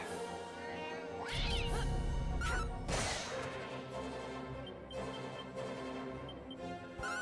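Cat enemies in the Dragon Quest 3 HD-2D role-playing game let out a few short meows over game music, alongside battle hits and swishes.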